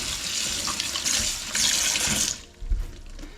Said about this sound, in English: Give it a little rinse.